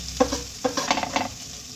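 Ginger and garlic frying with onion in a pan, with a few quick stirring scrapes and clatters over a soft sizzle, close and brief.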